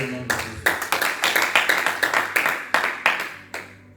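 A church congregation claps together in a steady, rhythmic beat, loud and close, about a dozen sharp claps in a row before tapering off.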